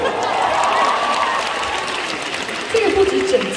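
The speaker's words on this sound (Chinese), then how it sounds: "掌声鼓励。" An audience at a band's concert in Singapore claps and cheers in a dense, sustained wash of noise, with voices speaking over it near the end.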